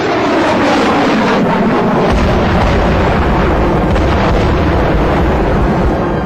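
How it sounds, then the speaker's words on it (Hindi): A surface-to-air missile striking and downing its target over the South China Sea, a loud continuous roaring blast with heavy rumble and wind-buffeted noise throughout. "ये न सिर्फ टारगेट का पीछा करती है बल्कि उसे घेर कर मार गिराती है।"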